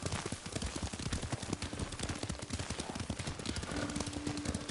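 A horse's hooves gallop continuously in Ghost of Tsushima, a dense, rapid, loud clatter of hoofbeats that runs without pause.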